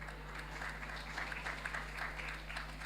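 An audience at a CARIFESTA XV event in Barbados applauds, a steady dense wash of clapping that holds evenly throughout, moderately loud under a low constant hum.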